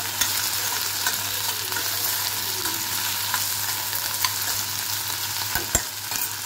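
Food shallow-fries in a pan with a continuous close sizzle and crackle, broken by occasional stirring scrapes and a couple of sharp utensil taps near the end.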